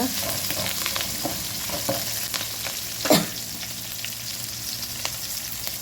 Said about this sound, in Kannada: ಹಸಿಮೆಣಸನ್ನು ಹಾಕ್ಕೊಂಡಿದ್ದೇನೆ ಚೆನ್ನಾಗಿ ಎಣ್ಣೆಯಲ್ಲಿ ಮಿಕ್ಸ್ ಮಾಡುವ